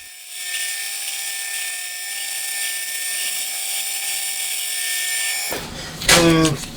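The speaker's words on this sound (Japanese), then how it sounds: "あとは突っ切りで切り離してしまえば旋盤工程は終わりですね。" Metal lathe parts off a component for a Honda Monkey engine, a steady high whining machine tone with a faint grinding hum for several seconds before it stops abruptly, followed by a short burst of speech.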